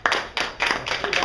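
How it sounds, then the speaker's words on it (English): Studio audience clapping on a local TV talk show comes in a few short rhythmic bursts of hand claps, close and moderately loud. "So that's when the applause sign goes up."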